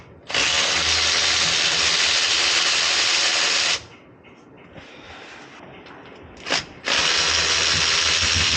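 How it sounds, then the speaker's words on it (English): A power tool whines loudly and steadily while removing transmission bolts on a 1954 Chevy 3100 pickup, running in two long bursts separated by a quieter pause with clinking, a brief blip, then another run. "and then we will start taking out these bolts"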